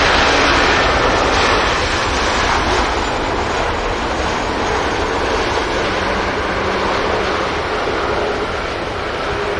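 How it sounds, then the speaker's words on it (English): Ryanair airliner touching down on the runway at Manchester Airport, heard as a loud continuous broadband roar of engines and rushing air, steady and close, with no voices. "another Ryanair absolutely caressing the main gear onto the runway"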